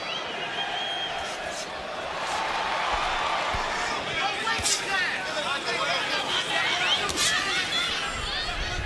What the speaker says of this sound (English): listen to the vociferous crowd